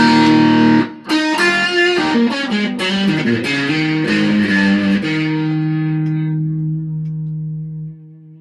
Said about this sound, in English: Rat distortion.